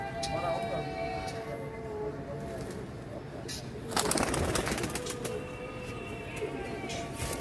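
A pair of pigeons cooing softly nearby in repeated low calls, with people talking over them and some clattering in the background.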